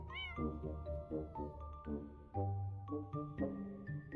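A cat in the video game Impostor Factory meows repeatedly, a series of clear, close, melodic meows of varying pitch in quick succession.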